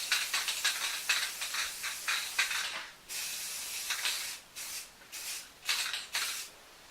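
A paint spray gun hisses as it coats a log for a faux finish, sounding in steady close bursts with short pauses between passes and no talking.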